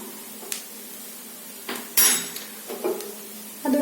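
A metal spoon stirs and scrapes egg rice, made from leftover rice, in a pan, giving sparse sharp clinks and scrapes spread irregularly over a quiet background.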